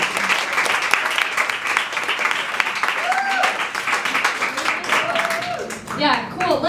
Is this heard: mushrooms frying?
no